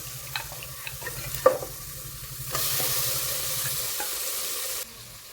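Mutton sizzling in a pan with ginger garlic paste, stirring clatters early on, then a louder steady frying hiss swells midway before dropping off near the end.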